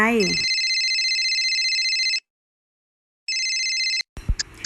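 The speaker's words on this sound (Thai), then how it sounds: "สิ่งที่ได้ยินคือเสียงโทรศัพท์นะคะ" A telephone rings with two loud electronic bursts separated by a pause, clear and close, followed by a short noise at the end.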